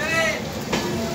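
Saharsa Patna Rajya Rani Express rolling out of Khagaria Junction, a steady rumbling rush of the moving train with brief squealing tones, a voice faintly under it.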